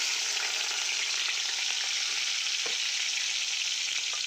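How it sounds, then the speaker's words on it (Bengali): Onions frying in hot oil over a medium flame for a seafood dish, a steady, dense crackling sizzle that fills the scene without pause, close and fairly loud, with a faint stir or clink partway through and no talking. "এখন পেঁয়াজ দিয়ে দিব।"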